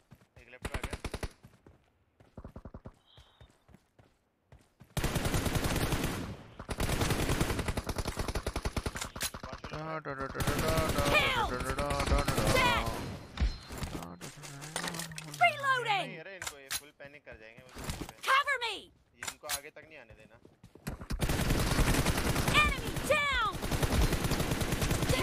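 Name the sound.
gunfire in the video game BGMI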